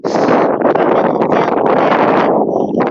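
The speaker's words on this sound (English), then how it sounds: "Crazy winds and rain." Strong, gusty wind roars and buffets a microphone continuously on a blustery, rainy day at an airfield, loud broadband rushing with brief dips and surges throughout.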